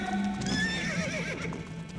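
Horses with an army neigh and whinny loudly up close as their hooves clop on stony ground, the calls rising and falling over a brief, busy scene.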